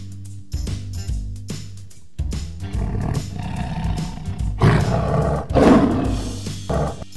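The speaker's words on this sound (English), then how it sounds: "A lion." Lion roaring: a series of deep, rumbling roars and growls that swell and break off in uneven bursts, loud and close, with no voices over them.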